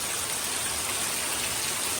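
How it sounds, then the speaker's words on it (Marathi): Steady, dense rain patters continuously outside in a village near Dapoli during the monsoon, a close and even wash of falling drops with no voices. "पाऊस पडतोय बाहेर"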